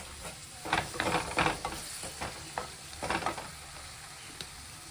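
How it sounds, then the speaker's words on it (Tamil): Onions sauté in a pan, a soft hiss broken by repeated scraping stirs that come in bursts, fairly quiet and close. "வெங்காயம் எல்லாம் வதங்கிட்டு இருக்கு"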